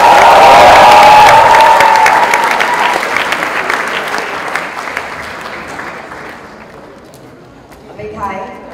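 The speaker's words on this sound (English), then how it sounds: "big applause for yourselves, please." A crowd applauds loudly at the inauguration ceremony of an edutainment show, the dense clapping thinning and fading over several seconds until only scattered claps remain.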